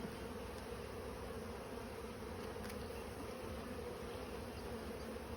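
Dense, steady buzzing of many honeybees at an open beehive during an inspection, constant and close, with no voices.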